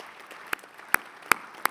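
A few isolated hand claps ring out one at a time, about four sharp slaps spaced at uneven intervals, from an audience at an annual session of a European parliamentary assembly in Luxembourg.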